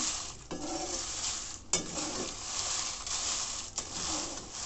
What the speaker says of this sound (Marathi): अशाच पद्धतीने आपण सर्व मिरच्या भाजून घ्यायच्या आहेत